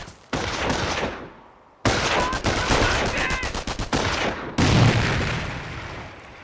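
Bursts of MG-42 machine gun fire in the World War II strategy game Company of Heroes, three long rapid rattling volleys separated by brief gaps, loud and close with booming echoes trailing off.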